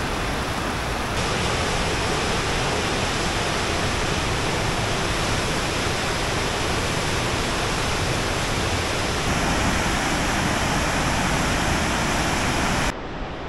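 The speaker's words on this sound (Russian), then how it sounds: "Прошли водопад. Вернее, даже каскад из 3 водопадов." Rushing water from a cascade of three waterfalls along a mountain trail near the former Almarasan sanatorium, a steady, dense roar that stays loud and unbroken throughout, cutting off abruptly at the very end.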